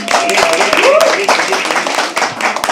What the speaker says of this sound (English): Okay, keep clapping.